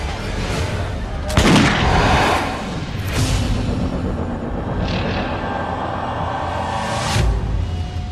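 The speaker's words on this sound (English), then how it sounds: "Europeans pick up on the idea, embracing and perfecting gunpowder weapons." Gunpowder weapons fire in several loud, booming shots spaced a few seconds apart, sharp blasts over a dense, rumbling background.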